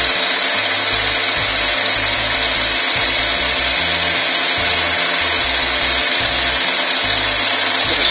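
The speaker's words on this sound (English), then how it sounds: "Got the lathe going about 2000 RPM." Wood lathe spinning a yew blank at around 2000 RPM, a steady loud whirring hum with a bright hiss on top and a rumbling low pulse that shifts in uneven bursts, no talk over it.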